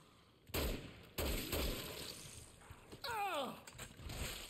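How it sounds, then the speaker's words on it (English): A powerful gun fires in the zombie game Dead Rising. Sharp, loud shots crack at about half a second and just over one second, with smaller impacts after them, and a groaning, warbling cry rises near the end. "This is a really strong gun."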